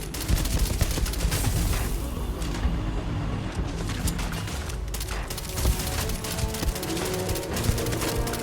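Gunfire in the Starfield video game: a dense, loud fusillade of rapid shots and automatic bursts continuing throughout, close and unbroken, with no talk over it.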